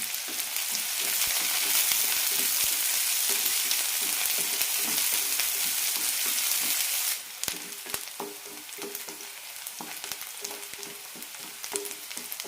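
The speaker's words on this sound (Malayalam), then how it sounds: "രണ്ട് പച്ചമുളക് കീറിയത് നന്നായി വഴറ്റാം" Onion and slit green chillies sauté in oil for a brinjal masala fry, a strong, steady sizzle that softens partway through, then continues under frequent scraping stirs.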